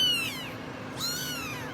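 A cat gives two clear, close meows in quick succession, each a rising then falling wail with nothing else around it.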